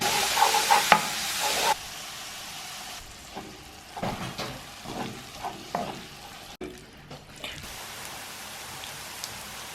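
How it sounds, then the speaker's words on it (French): Rice, sun-dried tomatoes and leeks being stirred and cooked in a pan, giving a steady sizzle with scraping stir strokes and short pauses, close and fairly loud. "on va mélanger ça, on va faire cuire tout ce qui doit être cuit"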